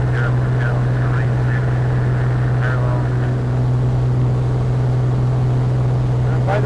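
Steady drone of a Navion light aircraft's piston engine and propeller during a climb at about 100 knots, a constant loud hum filling the cabin, with faint intermittent talk over it.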